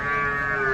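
A buffalo at the Sunday Erragadda livestock market lets out a single loud, close, sustained low moo lasting under a second.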